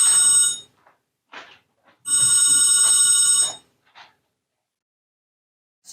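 A telephone bell rings loudly in two long bursts with a gap between, metallic and close, with faint soft noises in the pauses.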